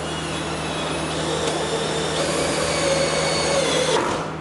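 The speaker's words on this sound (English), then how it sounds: "Drill them where they need to go." A power drill drives screws while installing a car exhaust, whirring steadily at close range with a loud, constant motor hum and a slight pitch change near the end.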